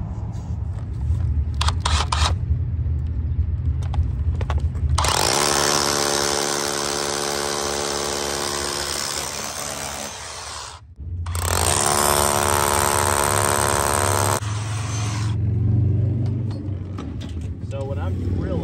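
A loud mechanical drill grinds and roars into the ground in two long bursts separated by a brief pause, with scattered clicks and handling noises before it starts.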